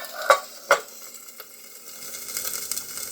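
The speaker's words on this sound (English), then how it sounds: "just kind of use the fork a little bit to move around in the skillet" A fork scrapes and taps against a skillet while stirring spinach and mushroom omelet eggs: two sharp metallic clinks near the start, then softer scraping over a faint sizzle.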